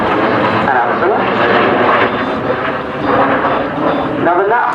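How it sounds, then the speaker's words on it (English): Vintage Folland Gnat jets fly in formation at an air day display at Culdrose, their engines roaring loudly and steadily throughout, with a commentator's voice running over the noise. "the Gnat first flew in 1955, so it's quite a vintage jet"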